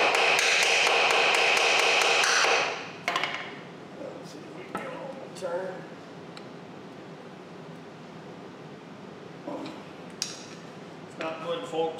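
Several sharp metallic taps from a hammer on a Model T Ford engine part ring out after a loud burst of broadband noise, then scattered knocks and clinks follow at irregular intervals, fairly close.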